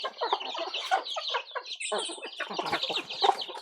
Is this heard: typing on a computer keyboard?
no